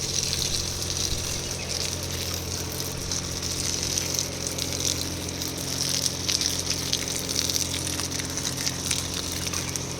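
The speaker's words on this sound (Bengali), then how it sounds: "প্রত্যেকটা গাছে আমি এই একভাবে জল দিই।" Water sprays steadily over potted plants as they are washed down, a continuous rushing hiss that holds at an even level for the whole stretch, with no voices.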